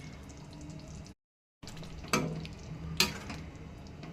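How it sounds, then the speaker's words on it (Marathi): Paneer tikka masala gravy simmers and sizzles in a pan while fried paneer is stirred in, with two sharp scraping clatters of the spoon and a brief silent gap. "पनीर टिक्काला मस्त अशी उकळी फुटलेली आहे"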